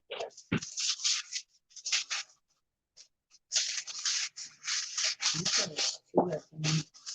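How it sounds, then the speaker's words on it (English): A spoon working a cheesecake crust mix of crumbs and butter in a bowl, gritty scraping strokes in short bursts with brief pauses, close and fairly loud. "This, you want to mix it until it looks like wet sand."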